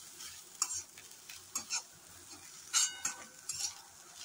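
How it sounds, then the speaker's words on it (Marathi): Okra (bhindi) being stirred with crushed peanut and roasted coconut masala in a pan, soft rhythmic scraping and stirring strokes over a faint low sizzle, fairly quiet and close. "हे सगळं असं मिक्स करून घ्यायचं आहे"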